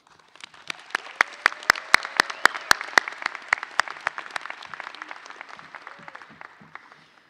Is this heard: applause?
yes